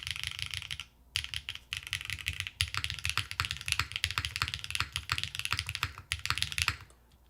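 Close, crisp typing on a mechanical keyboard built with M1 switches, GMK keycaps and an aluminum plate with no foam, a rapid patter of clacks in bursts with short pauses between them.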